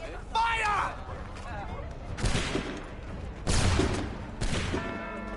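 Musket volley gunfire in the Assassin's Creed III video game: several loud broadband blasts crack out in sequence, each with a trailing rumble, with shouted voices and game sound mixed in around them.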